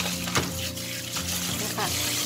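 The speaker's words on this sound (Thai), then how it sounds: "ให้เราล้างนะจนกว่าน้ำจะใสเลยค่ะหรือก็จะใช้วิธีการล้างผ่านน้ำแบบนี้เลย" Running water pours over shrimp being rinsed until the water runs clear, a steady splashing flow from a tap with brief sharper splashes, while someone talks over it.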